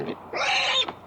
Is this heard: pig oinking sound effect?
yes